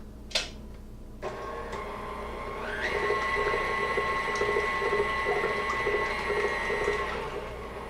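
An electric mixer with a beater attachment beating eggs for bread pudding: a couple of clicks, then a steady mechanical whir that starts up and runs at an even pitch, close and alone.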